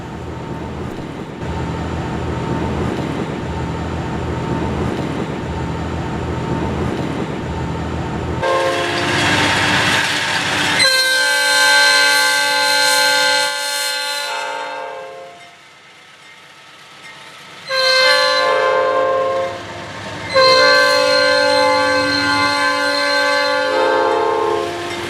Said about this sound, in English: This JW freight train is being led by JW104 and EMD SD7.